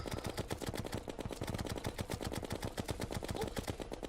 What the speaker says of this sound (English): this one is just essentially a matter of just shooting it down with the mini shark